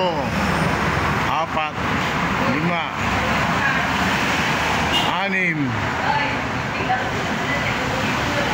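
Cars and trucks pass one after another on a road, several distinct whooshing pass-bys rising and fading over steady traffic rumble, with a voice talking over them.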